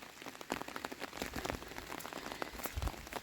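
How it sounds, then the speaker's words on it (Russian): Heavy rain drops pattering and bubbling onto a garden in Lithuania, a steady dense close-up patter of drops on wet ground and puddles with no talk. "А капли какие капают, пузырится."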